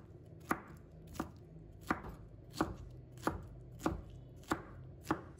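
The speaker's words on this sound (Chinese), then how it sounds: "再准备1小块菠萝，把它切成小块。" A knife chops a small piece of pineapple on a cutting board, eight crisp, evenly spaced thuds close up, with no talking.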